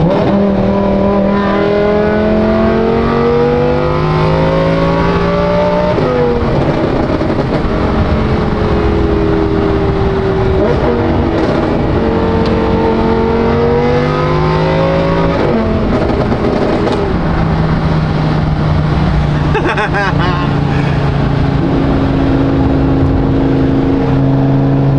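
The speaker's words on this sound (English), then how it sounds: "the car is warmed up a little bit. We can give her a little bit of Valvetronic sauce" A BMW with a Valvetronic engine, slightly warmed up, revs repeatedly up and down, its rising and falling engine note loud and close and heard alone across a long stretch.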